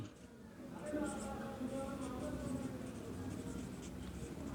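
Pen writing accounting terms on a surface during a class, a faint scratchy stroking sound heard under a teacher's quiet, continuous talk.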